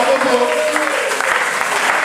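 A church congregation claps during a French-language sermon, with sustained, dense applause and a voice carrying over it.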